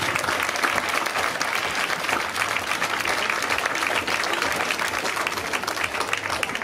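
Sustained, dense applause from a festival audience in front of an outdoor stage at the Zechenfest on Zollverein in Essen, steady and full throughout with no voices over it.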